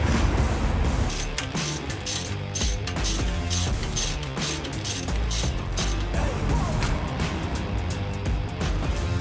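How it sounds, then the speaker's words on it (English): A hand ratchet loosens the lower ball joint bolts on an Audi A3 8P during gearbox removal, with steady rapid clicking strokes that run continuously and close up, broken by short pauses between pulls. "Now I'm just getting the bottom ball joint bolts out"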